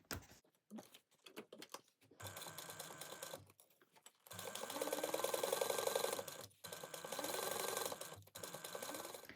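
A sewing machine bastes a zipper and lining together at a narrow seam allowance, short stitching bursts at first, then longer steady runs of rapid mechanical stitching with brief pauses between them, close and fairly quiet.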